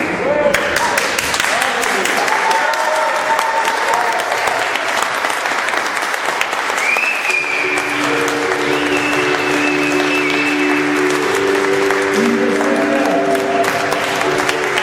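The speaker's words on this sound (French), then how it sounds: "Faites monter votre acclamation," A church congregation at a baptism service claps and cheers in sustained, dense applause that fills the room, with voices and music rising over it partway through.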